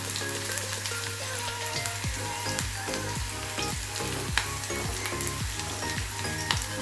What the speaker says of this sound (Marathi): अगदी कडकडीत आणि छान फोडणी द्यायची